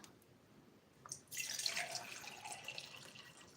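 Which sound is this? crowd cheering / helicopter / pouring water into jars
pouring water into jars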